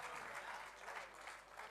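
Applause from a poetry recital audience at an All India Mushaira in Patiala forms a short, even wash of clapping, faint and distant, with no talk.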